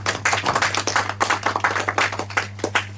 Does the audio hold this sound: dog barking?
no